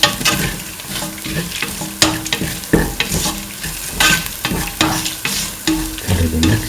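Duck meat with chili sautéed and mixed in a hot pan, loud close sizzling with frequent sharp spatula scrapes and clatters in an irregular rhythm, and no voices.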